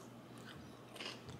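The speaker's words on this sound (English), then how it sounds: "either way, you're eating crunchy cereal." Dry crunchy cereal being bitten and chewed up close, with soft crunching bites in a quiet room and no talking.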